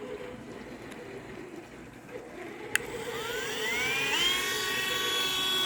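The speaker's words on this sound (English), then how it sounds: "I just take the Dremel" A Dremel rotary tool carves a foam block, spinning up after a sharp click into a whining, rising high-pitched drone that levels off into a steady buzz.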